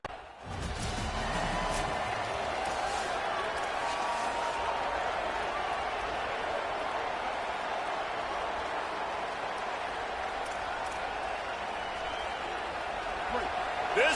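A large stadium crowd roars continuously at the Rose Bowl in a college football video game, a dense, steady wash of cheering throughout.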